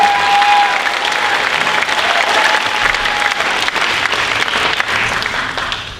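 An audience at a middle school spring concert claps for a piano soloist, producing a dense, steady wash of applause from many hands that holds for several seconds before tapering slightly.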